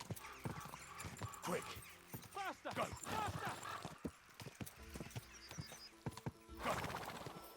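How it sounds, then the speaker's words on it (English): Rapid hoofbeats of a galloping horse drum steadily throughout, with occasional whinnies and excited shouting voices over the top, in Kingdom Come: Deliverance II. "They gave Hans a fast ass horse."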